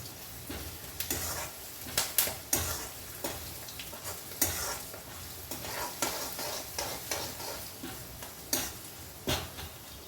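Onions sizzle in a pan with a steady crackling hiss, broken by repeated scraping stirs and spoon knocks against the pan in an uneven rhythm, close and moderately quiet, with no talking.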